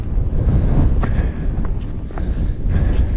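Wind blows across a hilltop on Kinder Scout above Edale, a steady, loud, low rumble buffeting the microphone throughout, with no distinct other sounds.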